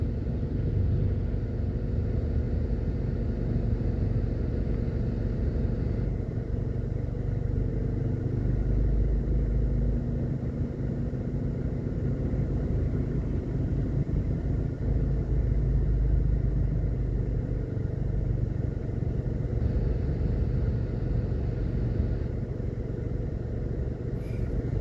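Weekday morning traffic flows along the streets of New Kingston, Jamaica, as a steady wash of engine rumble and passing cars, with occasional motorbikes, that holds at an even level throughout.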